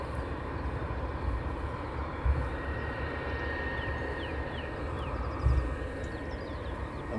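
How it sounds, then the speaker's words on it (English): An EasyJet airliner taxis at London Luton Airport, its engines a steady, broad roar that holds at a moderate distance with little change, marked by a couple of soft bumps. "Another EasyJet taxiing down."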